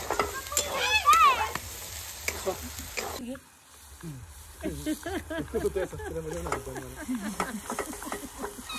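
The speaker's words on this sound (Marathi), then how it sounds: "कांदा टोमॅटोची पेस्ट टाकली आता." Onion and tomato paste sizzles and is stirred in a pan while someone talks over the steady frying hiss throughout.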